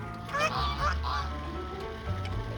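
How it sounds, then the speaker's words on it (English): Two nasal duck quacks sound close by, followed by a softer one, over a low rumbling background. "I don't think our ducks make that sound back home."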